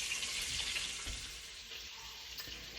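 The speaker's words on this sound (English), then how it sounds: "while the meat is browning" Pork neck bones brown in a frying pan with a steady, close hiss of sizzling fat, with a soft thump or stir partway through.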